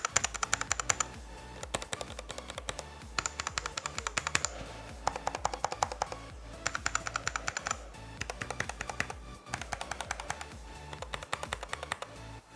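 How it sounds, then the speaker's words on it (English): Typing on a cheap £20 keyboard fitted with a tape mod, brisk close-up bursts of keystrokes with deep, muted clacks in steady clusters and short pauses between them. "this is the difference the tape makes"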